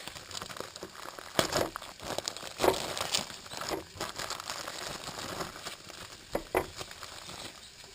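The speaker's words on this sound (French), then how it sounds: "on va sortir les pains de leur emballage et on va les préparer" Plastic bag crinkling and rustling as bread buns are pulled from their packaging, close and fairly quiet, with irregular bursts of crackle and soft handling noises over about eight seconds.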